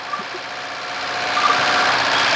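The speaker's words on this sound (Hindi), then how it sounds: "ये देखिए इंजन में कितना आवाज़ आ रहा है।" A Toyota Corolla or Camry engine (2015) running with no oil makes a loud, steady, rough mechanical noise that holds close and continuous throughout, with no talking.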